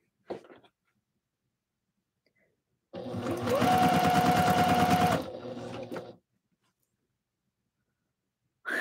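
A sewing machine runs a longer stitch on a tutu in one loud, steady burst of about three seconds, with a few faint clicks before and after.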